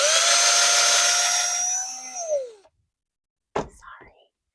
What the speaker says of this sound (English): Loud drill noises, y'all.